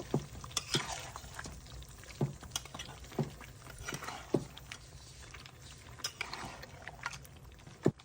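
Marinated duck meat frying in mustard oil, a soft bubbling sizzle broken by frequent sharp clinks and scrapes of a spoon being stirred around the pot.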